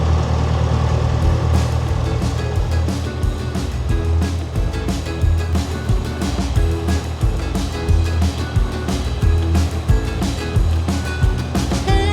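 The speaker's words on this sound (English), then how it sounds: "you can hear the traffic noise already, can't you?" Steady road traffic rumble near a canal marina, with a continuous low engine drone and swelling passes of vehicles, loud and unbroken throughout.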